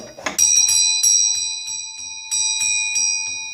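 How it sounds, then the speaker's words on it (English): A mechanical front doorbell, worked by a bell pull and tight cable, rings with bright metallic strikes, a rapid burst at first, then slower repeated chimes that keep sounding and fading. "here it carries on ringing after you've pulled the pull"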